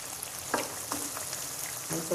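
Green chili pickle being stirred in a frying pan, a soft steady sizzle with a few short scraping strokes of the spoon, close and fairly quiet.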